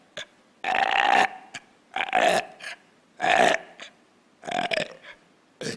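A series of loud, deliberate burps, about five drawn-out belches separated by short pauses and a few small hiccup-like bursts, close up with no talking.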